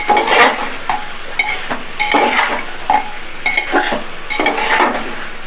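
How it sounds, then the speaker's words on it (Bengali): Fried potatoes are stirred into a jackfruit curry in a metal pot, with rhythmic scraping strokes of a spoon over a soft sizzle that repeats about every second, close and fairly loud. "আলু দিয়ে ভালো করে আমি নাড়াচাড়া করে দিচ্ছি"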